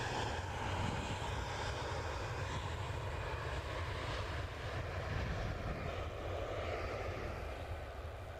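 Jet airliner engines at Manchester Airport at dawn, a continuous droning roar with a low rumble, heard from a distance at moderate level and holding steady throughout.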